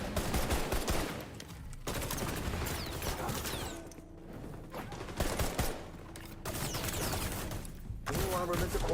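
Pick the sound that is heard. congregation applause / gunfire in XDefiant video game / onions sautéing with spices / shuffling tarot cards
gunfire in XDefiant video game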